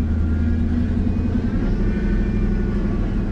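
A Square Body Chevy truck crawls over huge rocks off-road, its engine giving a steady, close, low rumble with slight revving and no talk over it.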